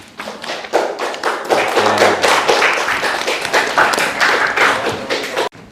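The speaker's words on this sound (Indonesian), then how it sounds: "Tepuk tangan untuk jawabannya." Steady applause from a sixth-grade class, dense overlapping claps sustained for several seconds, fairly loud, ending abruptly.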